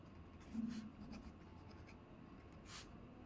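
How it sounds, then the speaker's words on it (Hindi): A pen writes on paper while a maths problem about a square is worked out, faint scratchy strokes in short bursts, close and quiet, under a low voice. "पहले तो गिवन लिखता हूं मैं"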